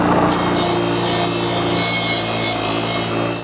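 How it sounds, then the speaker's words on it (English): Wire wheel grinding on a welded intercooler pipe, a loud continuous abrasive whir with a steady hum, close and unbroken for a few seconds. "So I was using the wire wheel up here."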